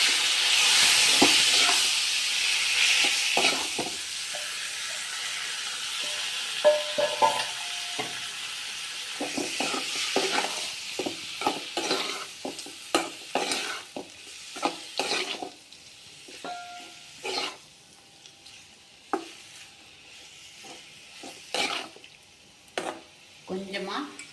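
Peanuts and boiled bottle gourd stir-fried in a pan, an initial loud sizzle and hiss followed by repeated scraping stirs and clinks that fade to lighter crackling.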